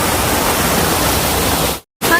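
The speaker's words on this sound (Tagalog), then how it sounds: "may maliit siya na parang sapa dito sa loob ng park" Small stream in the Serene Garden at Gardens by the Bay, a steady broadband rush of flowing water, fairly close, that cuts out briefly near the end before resuming.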